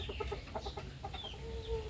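Brahma chickens clucking in a pen, a steady run of close, overlapping clucks and soft calls with a faint higher crow-like note near the end.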